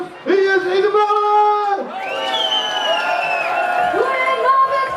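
A crowd at a carnival stage show in Kessel cheers and whoops loudly for the singer, sustained shouting voices rising and overlapping, close and full over the whole stretch.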